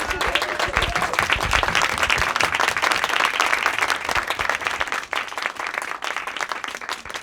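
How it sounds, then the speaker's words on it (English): Audience applause at a speaking event, a dense burst of many hands clapping filling the room for about five seconds before thinning slightly, with some cheering mixed in. "so we can applaud you"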